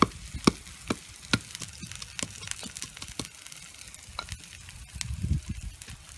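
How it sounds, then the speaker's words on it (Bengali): Five garlic cloves being pounded by hand for a mash: irregular sharp knocks and thuds repeat over a few seconds, close and moderately loud, with a soft gritty scraping underneath. "এখন আমি এই যে 5 কোয়া রসুন নিয়েছি, এটাকে একটু ভালো করে থেতে নিব"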